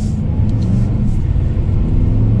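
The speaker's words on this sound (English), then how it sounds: "Do a little bit of an acceleration just to feel out this 4-cylinder engine." A 2020 Mercedes-Benz CLA 250 four-cylinder engine hums loudly and steadily with deep rumbling, building slightly as it accelerates at half throttle, close and continuous without speech.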